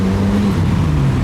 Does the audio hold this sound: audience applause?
no